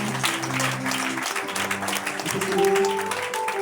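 Clapping fills a church wedding ceremony as the congregation acclaims the Lord, a steady crowd ovation over sustained musical tones throughout.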